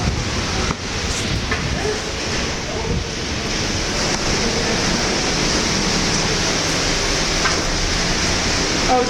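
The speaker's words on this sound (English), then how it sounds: "Oh geez, the water is running down." Heavy rainwater streams down a window at Hohenzollern Castle on a stormy day, making a dense, constant rushing wash that stays loud and unbroken throughout.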